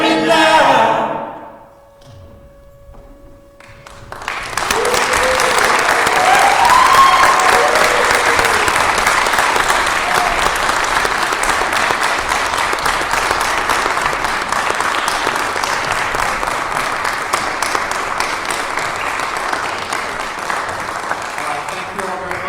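An audience applauds after a live song at a performance event. The clip opens with a short musical tail and a quiet gap, then loud, sustained clapping with some crowd noise continues to the end.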